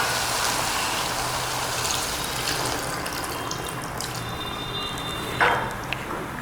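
Water poured into a pressure cooker of mango mutton curry gives a steady, close splashing gush that runs almost unbroken, with a brief sharper splash near the end and no talking.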